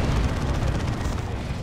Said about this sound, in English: They've got an auto cannon.